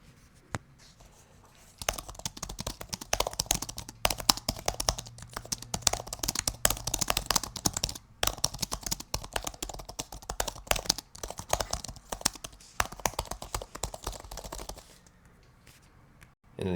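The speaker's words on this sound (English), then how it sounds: "now let's do a sound test here of the actual keyboard." Rapid, continuous typing on a CLVX 1 keyboard, close and crisp, a dense clatter of keystrokes that starts after a brief pause and runs without letup.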